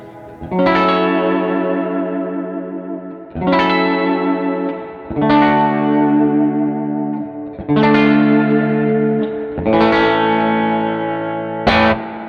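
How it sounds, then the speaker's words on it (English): Electric guitar chords ring out one after another, about five strums, through a Fender 212 amp with two Celestion A-type speakers, each washed in lush spring reverb and shimmering modulation as they decay. "It's all you want in a spring reverb that Fender is known for."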